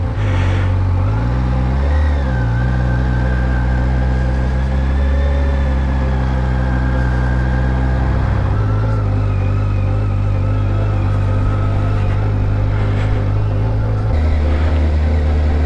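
A 2021 Kawasaki Versys 1000 SE LT+ motorcycle accelerating in first gear in road mode, a steady loud engine drone rising in pitch, dropping at a shift about eight seconds in and again near the end, with wind noise throughout.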